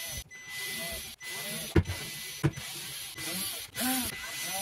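Screws are being backed out of a cover panel on a Kenmore Whirlpool dishwasher, with close ratcheting clicks and mechanical whirring in uneven bursts and a few sharp knocks.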